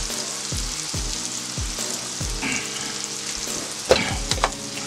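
Apple slices fry in a pan, a continuous close sizzle and crackle with a few soft scraping stirs and a brief louder clatter near the end, no talking.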